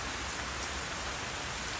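Steady monsoon rain pours down outdoors at a house under construction, a dense, even hiss of falling water with no other sounds standing out.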